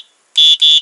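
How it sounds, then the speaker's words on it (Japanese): A battery-powered device on three AA cells emits a loud electronic alarm tone, two sharp beeps in quick succession after a faint tail of an earlier one. "もう電子音みたいな。"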